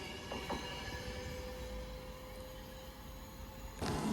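Class 391 train departing Wigan North Western for London Euston, a steady rumble with a sustained tonal whine throughout, brief squeal-like bursts near the start and a louder rise at the end.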